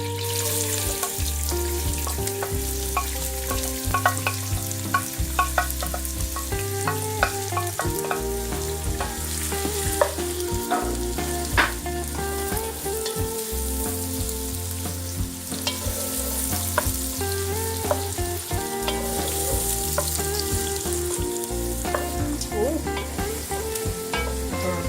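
Onions fry in a hot pan with a steady, dense sizzle and occasional stirring scrapes running throughout, close and loud, with no voices.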